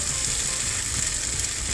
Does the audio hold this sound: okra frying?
yes